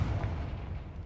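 A short booming blast from the Confringo blasting spell in Hogwarts Legacy, a deep muffled burst that fades out within about a second, with no voices.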